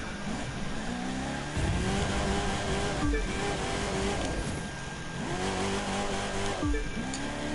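A car slides downhill through consecutive hairpins in The Crew 2, engine revving loud and steady with repeated pitch drops at each corner and tyres squealing faintly beneath, no voices.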